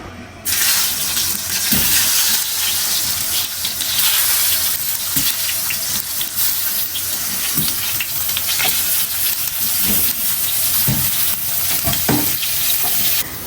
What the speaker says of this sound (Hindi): तो बस यहाँ पर मैं इसको फ्राई कर रही हूँ